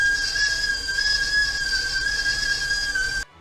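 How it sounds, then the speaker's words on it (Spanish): A kettle gives a steady, shrill, high whistle that holds for about three seconds and then cuts off abruptly, with faint hiss underneath. "La tetera comenzó a silbar."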